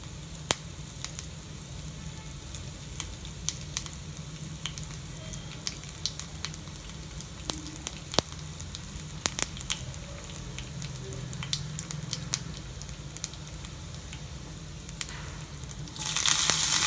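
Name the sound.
spices sizzling in hot oil for wheat rava pongal tempering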